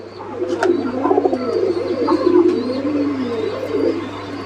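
Mukhi pigeons, a pair of the red spread colour, cooing in soft repeated rolling calls at close range, with a few sharp chirps and a steady low hum underneath, no talk.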